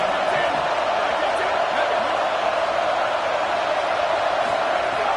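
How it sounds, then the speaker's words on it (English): At a Texas versus Texas A&M college football game, a packed stadium crowd roars in a constant, loud, unbroken wash of noise. "Listen to this crowd just shaking the girders of this place trying to help their defense."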